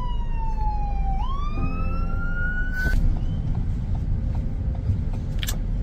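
A fire engine siren wails steadily during the Maui fires, its pitch dipping and then climbing again, over a continuous low rumble of traffic.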